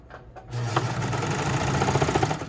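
A sewing machine runs a side seam for a McCall's 8051 garment. After a brief hush it starts up into a close, steady, rapid chatter of stitching.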